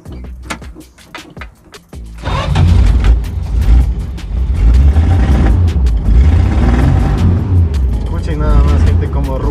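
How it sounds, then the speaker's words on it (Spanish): A classic Duster with an automatic gearbox and inline-six engine cranks and catches about two seconds in, then holds a loud, steady rev close by, with a few clicks and knocks before it starts. "Vamos a encenderlo para que escuchen cómo ruge esta belleza."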